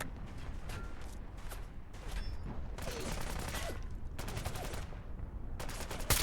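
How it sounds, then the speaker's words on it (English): Grenade blasts and rapid gunfire in the video game Fallout: London, bursts of crackling explosions and shots in clusters, loud and close, with a brief lull in between. "I'm just dropping fucking grenades."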